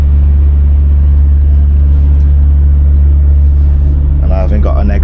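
A car drives out of the Stena Line ferry port at Cairnryan, its engine a loud, steady low rumble filling the cabin, with a voice speaking briefly near the end.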